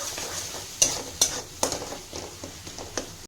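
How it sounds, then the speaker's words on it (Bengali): Turmeric, cumin and tomato masala being stir-fried in a pan for Punjabi dal tadka, with a soft steady sizzle under a handful of sharp scraping stirs and utensil knocks, close and alone. "এবার মশলাগুলো আমি ভালোভাবে কষে নিচ্ছি।"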